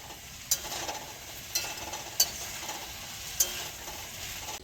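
Chopped spring onions sizzle steadily in a pan, with a spatula clicking sharply against the pan four times at uneven intervals as they are stirred.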